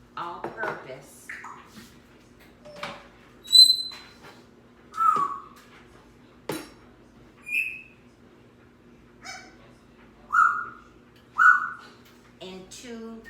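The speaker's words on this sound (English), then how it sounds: "I was trying to do this thinking my bird was going to be quiet, but I think he's going off again tonight." Pet bird in a home kitchen calling repeatedly, giving sharp chirps and clear whistled notes at irregular intervals, spread over a low steady background hum.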